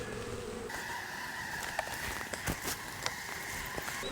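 Honey bees and robbing bees buzz around an open beehive, a faint, continuous hum with a few scattered clicks and bumps nearby.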